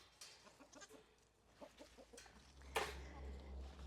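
Backyard chickens clucking in short, soft bursts at close range, with a louder squawk near the end over a low background rumble.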